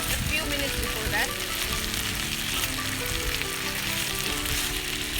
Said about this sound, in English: we need to stir fry this really well